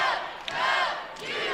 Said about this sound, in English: As you can hear the crowd say, WWU.